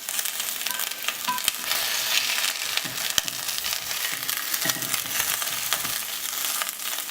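Meat for pot roast searing in a hot pan, a steady, loud broadband sizzle and crackle that runs without a break, with occasional pops and clinks from the pan.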